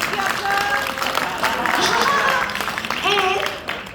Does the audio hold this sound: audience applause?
yes